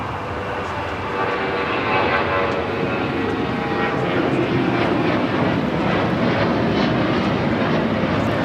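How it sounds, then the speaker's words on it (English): A United Airlines Boeing 737-800 taking off from LAX gives a rising, sustained jet engine roar that swells after the first second and holds loud and broad throughout, heard alone without talk. "This is United Airlines 319 taking off to Puerto Vallarta on a 737-800."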